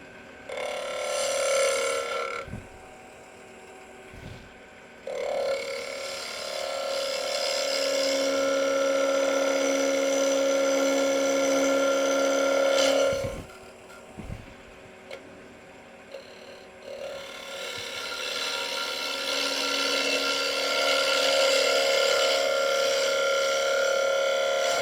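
A wood lathe spins while the bottom of a wooden plate is shaped, giving long stretches of steady whirring and scraping hum, broken by short pauses and a few sharp knocks.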